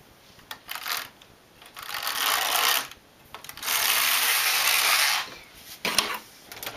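A domestic knitting machine carriage sweeps across the needle bed to knit a row of a lacy summer top, giving several loud, close rasping slides of differing lengths, the longest lasting over a second, separated by short pauses and clicks.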